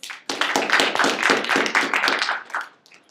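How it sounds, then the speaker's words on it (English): A brief burst of clapping from a small audience, dense and lively for a few seconds before tapering off. "Let's give Keshanti some applause."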